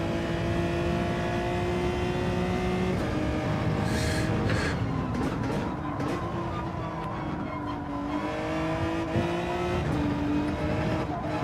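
A race car in Gran Turismo 7 holds a steady, droning engine note at speed, with pitch shifting through gear changes and brief tire squeals over the constant hum of the lap.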